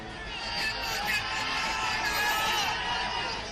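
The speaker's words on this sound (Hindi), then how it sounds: "ओवैसी के प्रचार में उमड़ी भीड़ में जो जहां था वहीं ठहर गया" A large crowd packs a street for Asaduddin Owaisi's door-to-door election campaign, giving a dense, steady murmur of many voices that stays at an even level throughout.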